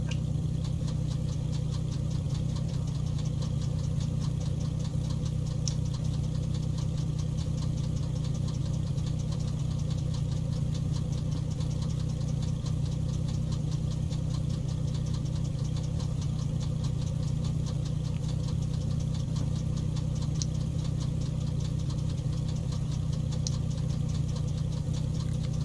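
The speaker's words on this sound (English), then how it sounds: "See if we can start the engine number 2 now." Twin-piston Carenado B58 Baron engine number 2 running in X-Plane 11, a steady droning hum with a constant low throb, loud and unbroken throughout with no talk.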